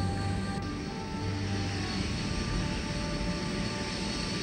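Propeller airplane engine in flight, heard as a steady, fairly loud droning hum that runs unbroken throughout with no voices.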